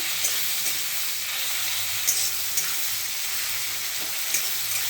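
Potatoes and crumbled egg fry in a pan, with a dense, continuous sizzle close by and a few light scraping taps from stirring scattered through it.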